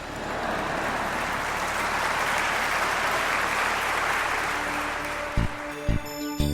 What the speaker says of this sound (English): I'll take 4 claps today.